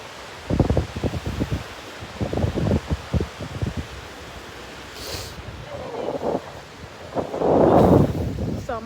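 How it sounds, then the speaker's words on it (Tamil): Strong wind gusting at a beach, rumbling and buffeting loudly in bursts with a broad rushing swell near the end, while people talk intermittently. "செம்ம காற்று அடிக்குது."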